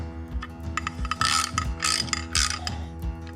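Ratcheting clicks from tightening a part on an SW20 Toyota MR2 shifter, a fast run of sharp metallic ratchet strokes in bursts, close and fairly loud, with no talking.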